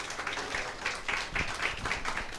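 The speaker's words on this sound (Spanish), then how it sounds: "Un aplauso, por favor, para ellos." A church congregation applauds during a Bible study class, giving a modest, fairly distant round of clapping with soft rhythmic swells and no talk over it.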